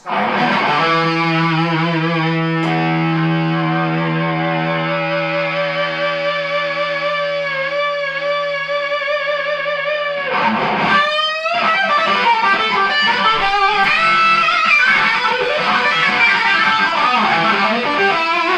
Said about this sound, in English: Also you've got a big sound like this.